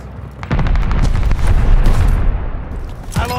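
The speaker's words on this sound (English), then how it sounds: "Friendly bombing run inbound." Bombing-run explosions in Call of Duty Vanguard multiplayer roll out as a dense, booming barrage mixed with rapid gunfire bursts, loud and continuous with sharp cracks at the start and end.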